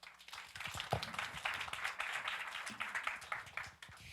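Audience applause after a presentation at an air-quality symposium in a hall: a steady burst of many hands clapping for about four seconds, moderately distant, with a brief voice near the start.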